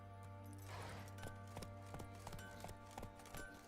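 Roach the horse's hooves clip-clopping at a steady walking rhythm in The Witcher 3, faint and distant under a humming game background with no talk.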